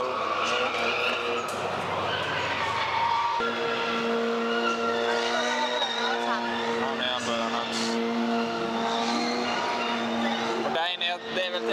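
Cars drifting and spinning at the Reisbrennen Japanese car event, with engines droning and tires squealing in long wavering tones from a distance. People talk over the steady engine noise.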